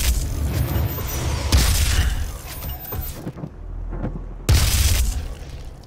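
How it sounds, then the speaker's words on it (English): A Gauss cannon fires in the Doom video game, heavy booming blasts with mechanical rumbling, a brief quieter lull, then another loud burst near the end, with no talk. "Oh, this is a new weapon."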